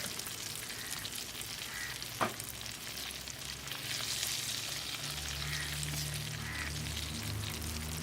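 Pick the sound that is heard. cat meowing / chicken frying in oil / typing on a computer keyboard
chicken frying in oil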